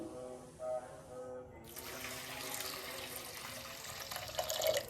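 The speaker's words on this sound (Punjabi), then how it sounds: "ਤੇ ਹੁਣ ਆਪਾਂ ਇਹਦੇ ਵਿੱਚ ਪਾਵਾਂਗੇ ਪਾਣੀ" Water poured from a vessel onto crushed jaggery, a soft steady splashing pour that starts abruptly and runs continuously, fairly quiet and close.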